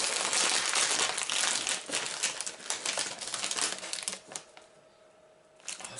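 A Lay's potato chip bag being torn open and handled, giving loud, dense plastic crinkling and crackling that runs for several seconds before easing off into quiet.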